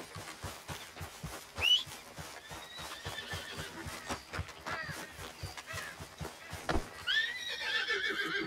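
A horse in the video game Red Dead Redemption 2 neighs and whinnies amid rhythmic hoof clip-clops, with a second shrill whinny near the end.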